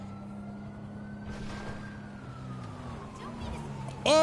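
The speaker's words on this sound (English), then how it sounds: "police siren started" A police car siren in a cop video game wails in a slow, rising and falling sweep, fairly faint and distant at first over a low engine hum, with a brief louder burst at the end.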